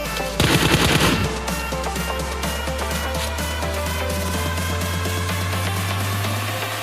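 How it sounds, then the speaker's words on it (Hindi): A rapid, loud burst of automatic gunfire erupts early in a solo-versus-squad shooter video game, then fades, leaving steady in-game music and ambience for the rest. "यहाँ से मुझे गन शॉट के आवाज़ आते हैं"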